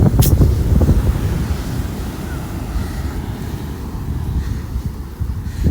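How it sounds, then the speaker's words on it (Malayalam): Ocean waves surge onto the beach at Poovar Island in Kerala, a steady loud roar of surf and rushing water with heavy wind buffeting the microphone throughout. "നല്ല തിരയുണ്ട്. നോക്ക്, വെള്ളമൊക്കെ ഇങ്ങനെ കരക്കി കയറിക്കൊണ്ടിരിക്കുകയാണ്."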